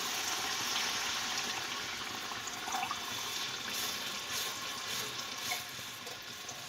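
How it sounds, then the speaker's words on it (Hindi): Water from a glass poured into masala frying in a pan for a fish curry, a steady broadband hiss and sizzle running throughout at moderate level, with small bubbling pops and no voices. "अब इसमें जो है मैं 1 गिलास पानी डालूंगी।"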